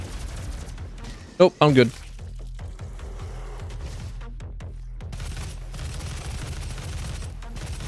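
Gunfire in the video game DOOM, a sharp burst of two or three loud close shots packed into half a second, then steady game noise with a player talking throughout.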